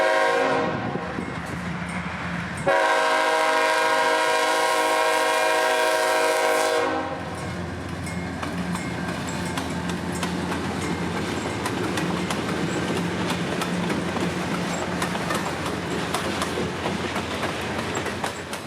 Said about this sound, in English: the gates would activate and the bells would ring as we get our first look at the new Tampa local power pool